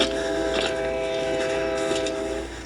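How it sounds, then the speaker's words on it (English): Train approaching along the tracks near a car stuck on a crossing, a steady loud rumble with a sustained horn-like tone and rattling wheel noise throughout, no talk. "I hear a train coming."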